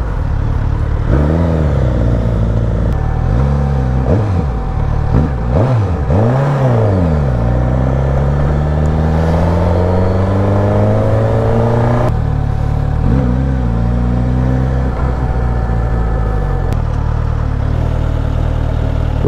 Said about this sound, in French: on lâche l'embrayage, la moto elle accélère toute seule pour pas caler